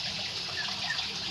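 Water runs steadily into a catfish fingerling tank, a continuous close hiss and trickle with no pauses.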